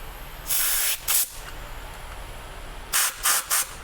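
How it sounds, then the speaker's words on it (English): Cleaner sprayed through an old motorcycle carburetor after the bike sat unused for years: one long hissing burst and a short one, a quiet pause, then three quick spurts, close and sharp. "So let's get some spray. We're gonna spray through there."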